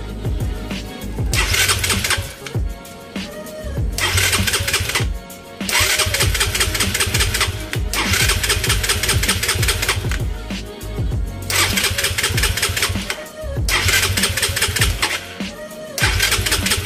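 A Raider 150 motorcycle with a vacuum-type fuel pump fitted is started again and again. Loud bursts of cranking and engine roar alternate with short gaps, close up and with no one talking.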